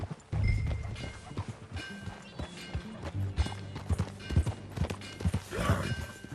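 Horse hooves clip-clop at a walking pace while riding in Red Dead Redemption 2, irregular close thuds spaced through the clip, with a brief whinny and harness sounds near the end.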